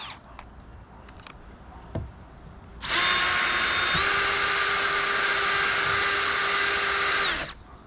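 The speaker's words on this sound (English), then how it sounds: "so let's just kind of ream it a little bit with the drill bit." A power drill reaming a hole for a kayak camera mount spins up and runs at a steady high whine for several seconds, then stops abruptly; faint handling clicks precede it.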